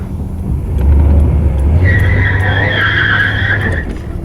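Car tires on a G-body car spinning and skidding, a loud close squeal over low engine rumble that lasts a few seconds and fades, with no voices.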